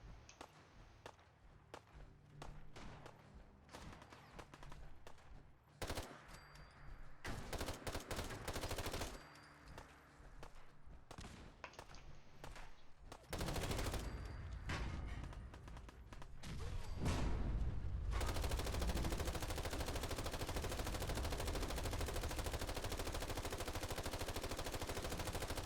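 RU556 assault rifle in a modded Fallout game, firing short bursts and single shots in a choppy, irregular pattern that gives way to sustained loud rapid fire.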